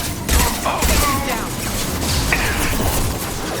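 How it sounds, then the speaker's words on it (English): Heavy weapon fire in the Mass Effect 2 video game, loud booming blasts and crackling gunfire in a dense burst, with voices speaking over the combat. "Heavy weapon."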